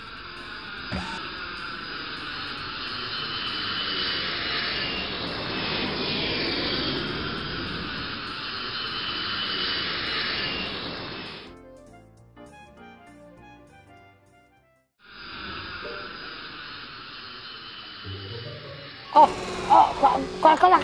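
A toy airplane with a faulty engine whines and drones steadily, cuts out into near silence for a few seconds, then restarts before a burst of clatter at the end.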